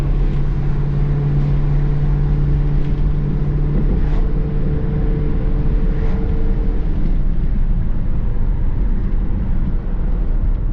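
Chevrolet LT1 V8 engine running steadily while the car drives, a loud continuous low drone with a tonal hum that fades partway through as road noise continues.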